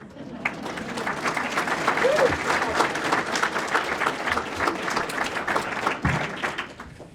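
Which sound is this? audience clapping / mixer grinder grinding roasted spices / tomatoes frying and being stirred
audience clapping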